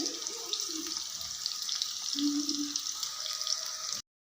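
Bitter gourd frying in a pan with chili powder, a steady soft sizzle and crackle throughout, fairly quiet, with a faint voice murmuring briefly in the background.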